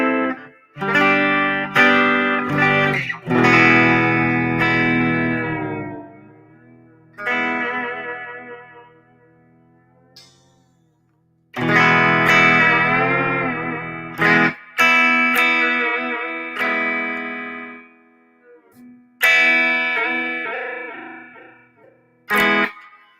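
Vox AC30 guitar amp played with its reverb and tremolo, bursts of chorded electric guitar ringing out and trailing into wash-like decay, with several pauses and restarts between phrases.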